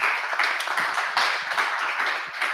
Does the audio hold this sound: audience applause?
yes